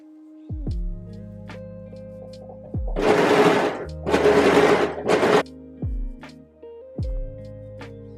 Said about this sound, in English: I'm just going to sew down this edge with my overlocker